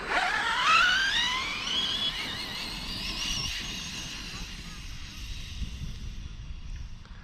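Arrma Kraton EXB radio-controlled car speeding off on an outdoor track, a high electric motor whine that climbs in pitch, then fades into the distance amid faint background noise.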